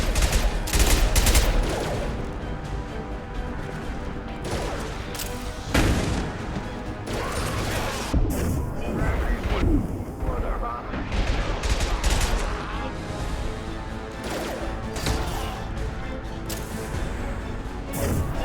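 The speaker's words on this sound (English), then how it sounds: "Shotgun!" Shotgun fire in the sci-fi shooter Mass Effect 2, loud sharp blasts recurring at irregular intervals through a long, busy firefight with other weapon fire and impacts, voices occasionally speaking over the combat.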